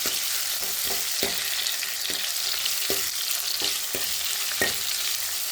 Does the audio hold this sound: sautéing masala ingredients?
yes